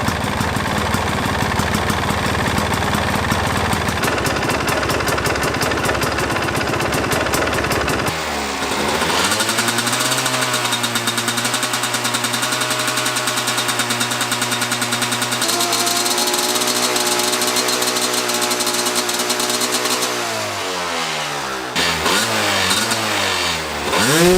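A GasGas motorcycle engine runs close by, idling with a rough, throbbing note, then revving up and holding a higher, steady whine before dropping back.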